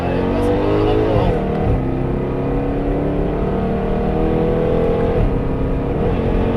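Race car, an SVR 3.8, accelerating hard around the Paul Ricard circuit: a loud, continuous engine roar climbing in pitch with several audible upshifts, while a driving instructor talks over it.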